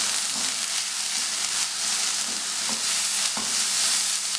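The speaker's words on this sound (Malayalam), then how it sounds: "നമുക്ക് ബീൻസ് ചേർത്ത് കൊടുക്കാം ഇതൊന്ന് വാടി വരുമ്പോഴേക്ക് കാരറ്റ് ചേർത്ത് കൊടുക്കാം" Chopped beans and carrots sauté in a pan, making a steady close hiss with occasional soft scrapes of stirring spread through it, no one speaking.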